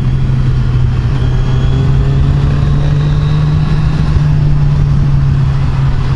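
A 2014 Kawasaki Z1000 Special Edition motorcycle engine runs loud and close with a steady, even drone, its note rising slightly under throttle amid constant wind rush.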